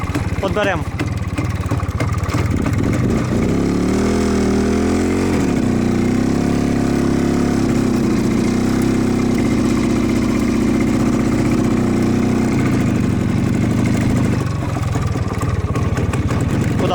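An IZh Planeta 5 motorcycle engine runs at a steady idle close by, a loud continuous low drone with a slight rise in pitch early on, while voices are heard alongside it.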